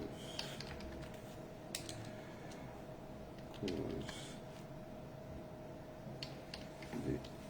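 Steady typing on a computer keyboard, a continuous run of light clicking keystrokes at close range with a few louder thumps, over a constant low background hum.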